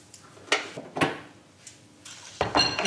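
Oven door opened mid-cooking while roasting lemon chicken, heard as a few separate clicks and knocks of metal and glass, with a louder clatter of handling near the end.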